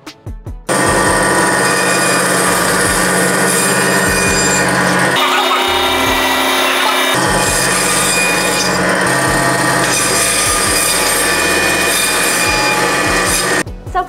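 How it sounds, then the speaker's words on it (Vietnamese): A NEWSUN aluminum-body electric bone saw runs continuously, its loud steady whine and harsh rasping cut sustained throughout, with a brief change in tone midway as the blade works through bone. "Nguyên liệu sau khi cưa hoặc là cắt xong thì sẽ được đẩy ra phía sau của lưỡi cưa"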